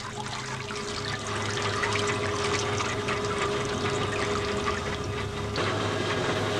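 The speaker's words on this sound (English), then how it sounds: "It's important to shake the mould while the water drains to interlock the fibres and make the paper stronger." Water drains steadily through a papermaking mould screen as it is shaken to interlock the fibres, making a continuous hissing trickle at close range with a faint background hum and no voices.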